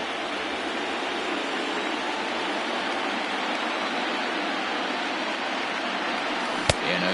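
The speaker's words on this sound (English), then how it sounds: "Really starting to pour now, and the forecast is not showing any signs of a break in the weather." Heavy rain pouring down on a baseball field in MLB The Show 20, a dense, even roar of falling water throughout, with one sharp click near the end.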